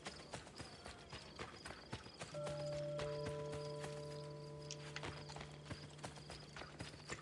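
In the video game Assassin's Creed: Brotherhood, horse hooves gallop in a quick, regular clip-clop. A sustained tonal drone of game music plays under the hoofbeats.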